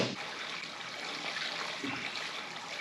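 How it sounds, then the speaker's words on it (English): Pure water poured from a jug into the radiator of a 1936–1959 Caterpillar D4 crawler tractor, a steady gurgling stream, close and continuous with no voices. "We're going to start with 3 gallons of pure water for the radiator."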